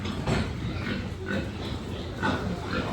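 Pigs on a backyard pig farm grunt and oink in short, repeated bursts at a moderate distance, against a steady background hum.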